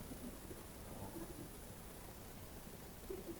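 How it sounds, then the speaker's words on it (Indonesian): Heavy rain falling outside during a gathering, a faint, steady wash of hiss with a low rumbling undertone, continuous and distant, with no voices. "Hujan."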